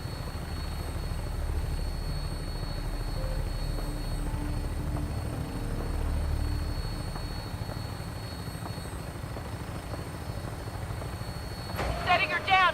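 A Brotherhood of Steel vertibird in Fallout 4 climbs away after takeoff, its rotor drone a constant low throbbing roar that swells near the end with a burst of higher-pitched mechanical noise.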